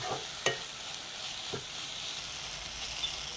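Tomato masala for karimeen pollichathu sizzles steadily in a pan, a close, even frying hiss broken by a few light scraping stirs, with no talking.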